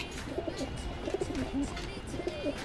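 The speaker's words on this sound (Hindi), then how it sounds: "और ये उड़े हुए कबूतर हैं।" Madrasi pigeons coo in soft, repeated throaty phrases, several close calls spread across a couple of seconds over a faint background hum.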